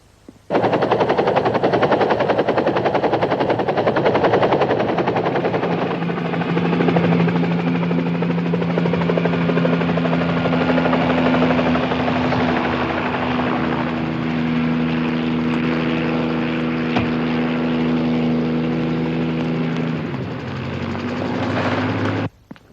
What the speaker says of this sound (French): Prends l'hélicoptère, en moins d'1 heure, t'es là-bas.